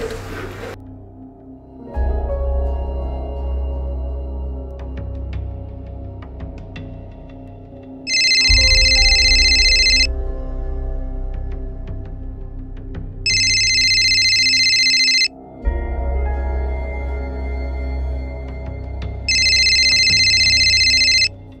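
A telephone rings in repeated long electronic bursts, loud and close, with steady pauses between rings and a low background hum, no voices.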